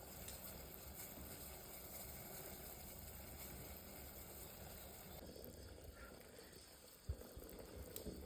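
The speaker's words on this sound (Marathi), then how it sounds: "दहा मिनिटं ज्वारीला उकळून घेतलेले" A low, steady bubbling rumble of sorghum boiling in water in a pot, continuous and even, with a faint clatter near the end.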